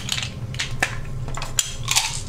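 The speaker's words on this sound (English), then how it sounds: "This is the sound of dice" Dice rolled at a tabletop role-playing game session, heard as several short, sharp clattering taps spread across about two seconds over a steady low background hum.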